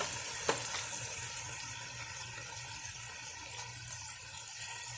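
Ground beef seasoned with salt and pepper browning in a pan for chili, a steady close hiss and crackle of sizzling fat running throughout with no one talking.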